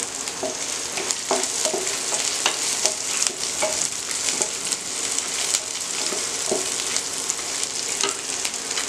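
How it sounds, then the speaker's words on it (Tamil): Onion, ginger and garlic sautéing in a pan for a tomato kulambu, giving a loud, steady sizzle throughout with occasional sharp stirring scrapes and clinks close up and no voices. "இப்போ வெங்காயம் நல்லா வதங்கிருச்சு இஞ்சியே போடுறேன் அடுத்து பூண்டையும் போட்டுக்கிறேன் இப்போ நல்லா வதக்கிக்கணும்"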